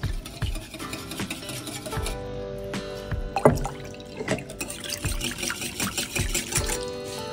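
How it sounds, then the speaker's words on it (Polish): Cold water being poured into dissolved jelly in a kitchen, an uneven splashing trickle with drips and light knocks running throughout at moderate level. "I dolewam zimną wodę."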